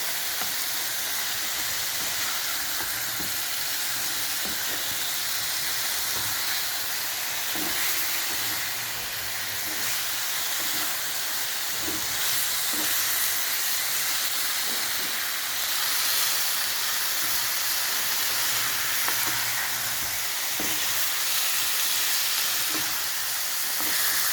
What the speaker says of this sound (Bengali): এইটা আমার কষা হচ্ছে চিকেনটা।